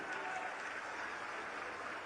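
Faint, steady applause from a crowd at a religious gathering, a distant, even rattle of many hands clapping without letup.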